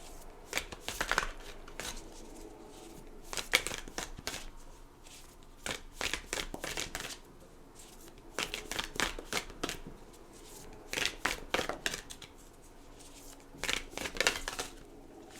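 An oracle card deck of archetypes is shuffled by hand close up, in repeated quick riffling bursts separated by short pauses, crisp and papery, with no talking.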